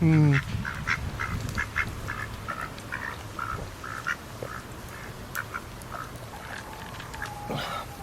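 A duck quacks close by in a steady run of short, soft bursts, repeating every half second or so over a faint background hiss.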